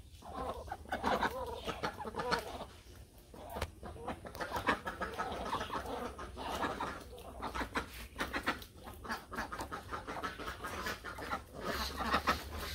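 A flock of domestic ducks comes home in the afternoon rain to be fed, a busy, continuous stretch of quacks and clucking calls from several birds close by, with no talk.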